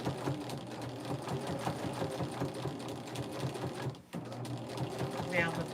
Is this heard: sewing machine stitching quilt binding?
yes